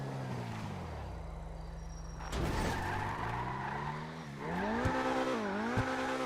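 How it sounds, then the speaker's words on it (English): Game car in GTA V doing burnouts, a continuous engine roar with rising and falling revs, tire squeal and skidding throughout, loud and close with no talk. "Even though it's doing burnouts, it can still kind of maintain a straight line."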